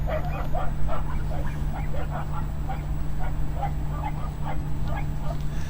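Dog barking from a car parked nearby, a run of repeated sharp barks and yips at close range, loud and steady throughout with no talk over it.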